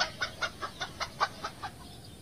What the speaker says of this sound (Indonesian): Anjing dikejar ayam.